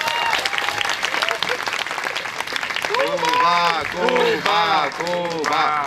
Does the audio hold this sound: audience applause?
yes